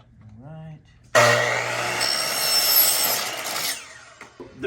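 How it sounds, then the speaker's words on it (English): A power saw cuts through a screen door frame, starting abruptly after a brief hum and grinding loudly for about two and a half seconds before stopping, followed by a few light knocks. "make sure it's flat on the saw so that you get a straight, even cut"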